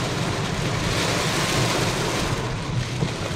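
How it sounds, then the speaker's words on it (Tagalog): Heavy rain pounding steadily during flooding in Metro Manila, a dense, unbroken roar of downpour close by with no talk. "Lakas ng ulan."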